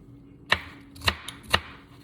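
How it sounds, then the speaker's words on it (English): Three crisp knife chops through Anaheim chili peppers and red onion on a board, evenly spaced and close, with quiet in between. "So I'm gonna go ahead and cut these up because my oil is hot and ready"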